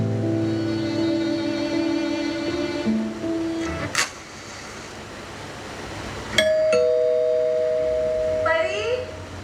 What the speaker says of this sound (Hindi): हमेशा डोरबेल बजा के भाग जाता।